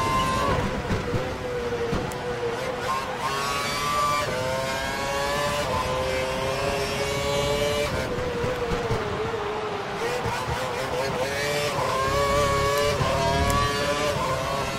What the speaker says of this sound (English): A runaway car coming after you now, Yami.